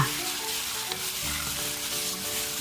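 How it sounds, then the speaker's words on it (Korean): Seasoned tofu mixture stir-fried with onions in a pan, a continuous close sizzle with soft scraping of the spatula throughout. "양념해 놓은 두부 반죽을 넣어 10초간 재료들과 고루 섞이도록 살짝 볶아줍니다"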